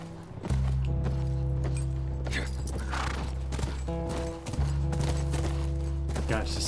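Horse hooves clip-clop in the video game The Last of Us Part 1, a steady clatter of steps over a loud, constant low hum.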